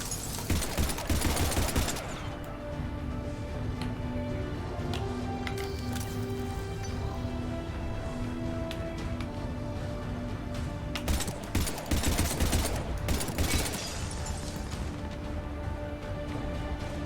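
Sustained sci-fi gunfire from the Mass Effect 3 Citadel battle, a dense continuous fusillade with louder bursts at the start and again around the middle, over a droning game score.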